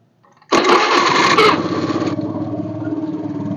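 A Honda Scoopy FI scooter engine, jumped from a good battery, cranks and catches abruptly, roaring loudly before settling into a steady, close, pulsing idle with no talk.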